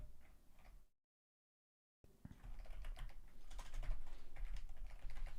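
Rapid clicking keystrokes on a computer keyboard, close and fairly loud, broken by a second of dead silence before the typing resumes in a dense, irregular stream.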